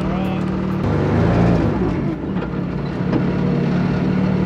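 A Toyota GR Yaris rally car's engine idles with a steady, loud mechanical drone and a slight swell partway through, while people talk over it.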